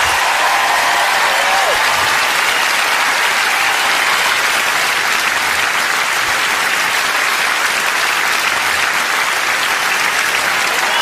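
Sustained applause from a theatre audience at the close of a live stand-up comedy show, steady dense clapping with crowd noise throughout, no speech over it.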